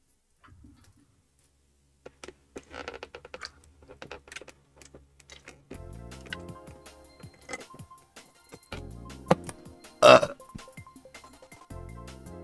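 A burp rises out of a noisy room, standing out near the end as a loud, brief guttural eructation over scattered clicks and taps.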